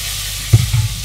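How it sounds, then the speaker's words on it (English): Garlic dropped into a pan with crispy pancetta, frying in a steady, close hiss with a brief louder burst of stirring partway through, no talking. "When your pancetta is nice and crispy, add your garlic, and we fry that for literally 10 seconds"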